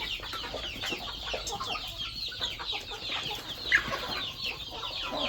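A flock of Cambodian village chickens on a farm clucks and chatters busily while pecking at mixed feed, many soft overlapping calls close by with no talk.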